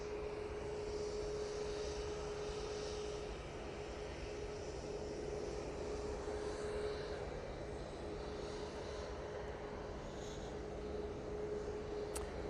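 A Loganair ERJ 145 regional jet arrives at Manchester Airport from Aberdeen, giving a steady, broadband engine roar with a faint tonal whine, distant and even throughout with no voices.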